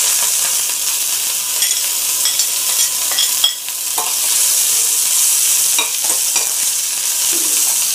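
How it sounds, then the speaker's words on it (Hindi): Mustard seeds, ginger and curry leaves sizzle and crackle steadily in hot oil for upma, a loud continuous frying hiss with small pops and occasional spoon stirs, no voices. "अब मैं डाल दूंगी इसमें अपनी राई, साथ में अदरक, साथ में कड़ी पत्ता,"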